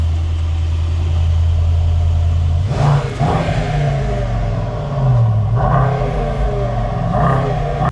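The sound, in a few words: Mercedes-AMG GT 63 S E Performance V8 engine starting and revving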